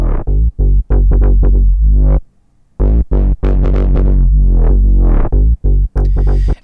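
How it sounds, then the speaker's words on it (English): A synth bass line played through a Decapitator distortion plugin set fully wet, giving an amp-like breakup. Loud, gritty notes pulse in a rhythmic phrase with one brief gap, heard alone and up close. "It sounds like we're playing this bass line through like an amplifier or something."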